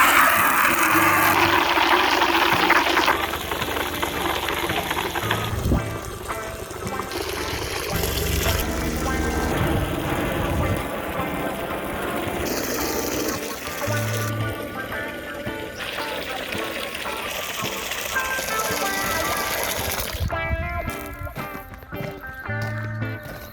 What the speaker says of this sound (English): I need to fill their water up, I think.